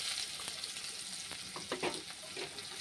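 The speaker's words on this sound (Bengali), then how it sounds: "পেঁয়াজটা লাল করে ভেজে নিব।" Onion frying in oil in a pan after garlic and bay leaf, a steady close sizzle with occasional crackles and stirring clinks, no voices.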